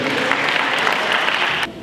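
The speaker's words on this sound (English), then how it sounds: "Give him a hand clap of praise." An audience at a live event breaks into loud, dense applause. The clapping holds steady for under two seconds, then drops off sharply.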